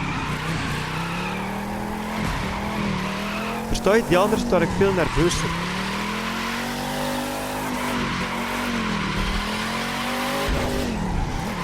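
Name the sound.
car driving and skidding in The Crew 2 video game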